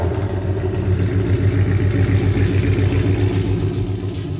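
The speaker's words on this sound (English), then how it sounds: "I love the tone that this car makes. It's loud enough that you know it's a muscle car." Supercharged 5.4 liter V8 in a 1967 Ford Mustang street machine, running through an X-pipe and MagnaFlow mufflers, makes a loud, steady, deep rumble close by with slight swells, and no one speaks over it.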